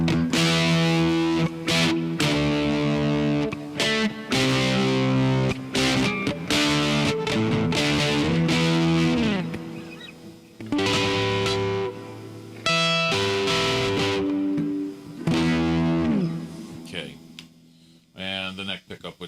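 A custom cherry and walnut electric guitar with both pickups engaged, played as a continuous run of distorted strummed chords and riffs, loud and close, with short gaps between phrases and a quieter tail at the end.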